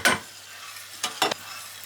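Ingredients for lasagna fry in a pan with a soft sizzle, broken by three brief scraping strokes of stirring, close and clear with no talk.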